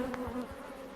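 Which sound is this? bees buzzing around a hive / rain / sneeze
bees buzzing around a hive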